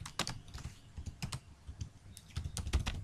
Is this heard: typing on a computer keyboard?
yes